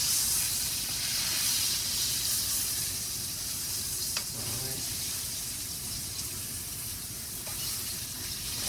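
A steak searing in a hot pan in its own juices, a continuous close hiss and sizzle with a brief clatter midway, steady and fairly loud throughout.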